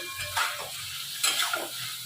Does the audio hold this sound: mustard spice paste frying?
yes